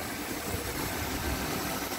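A Mercedes C230 with a naturally aspirated V6 idles steadily, giving a continuous low rumble with even vibration and no changes in revs, close by and with no one talking.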